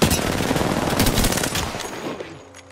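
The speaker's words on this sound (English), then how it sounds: "Shot fired and they're shooting" Rapid automatic gunfire rattles in an Apex Legends match, a loud, dense burst of shots that tapers off into fainter echoes.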